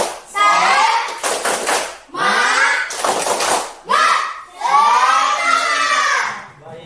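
A school class performs a rhythmic spirit clap in the classroom, with several loud bursts of children's clapping and chanting separated by short pauses, ending in a longer, sustained burst.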